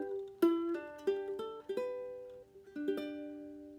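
A ukulele picks a short melody from Chopin's Fantaisie-Impromptu, a handful of quiet plucked notes with ringing decay, played alone and close.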